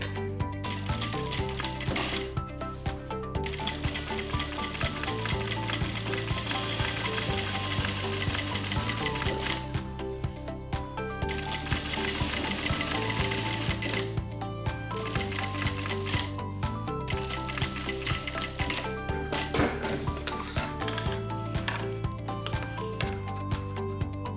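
A sewing machine stitches a second decorative row along a zip-around fabric wallet, its needle running in a steady, rapid mechanical clatter with short pauses between bursts, close and continuous.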